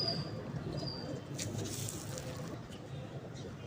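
Pigeons from a breeder pair for sale coo softly in a loft, a low steady murmur under a dense noisy background, with faint chirps and wing sounds.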